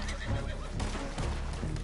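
A horse in Red Dead Redemption Online whinnies in a short, close burst, its neigh rising and falling over a dense game soundscape.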